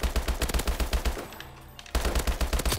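HBR rifle from Call of Duty: Advanced Warfare firing in rapid automatic bursts, with a fast, punchy string of shots, a brief pause midway, then another sustained burst, loud and close.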